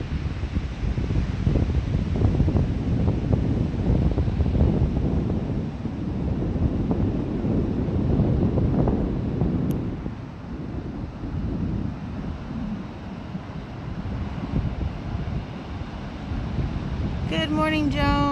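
A breeze blows steadily at Morro Strand State Beach on a clear, chilly morning. Continuous wind rumbles against the microphone and grows softer midway, while faint surf and ambient hiss fill the background.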